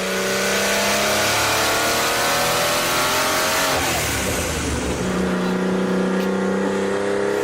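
A Porsche 935 race car engine revving hard and loud, a sustained snarling roar with rising and falling pitch, close and continuous with no talking.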